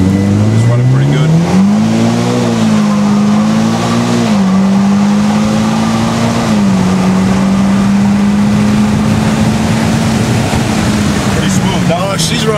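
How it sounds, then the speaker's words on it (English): A tuned Mitsubishi Evo X engine idles steadily and smoothly, its low hum holding an even pitch close by, with occasional slight dips. "Wow, you can hear the difference in that motor."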